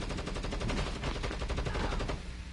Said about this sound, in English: Where is that shot coming from?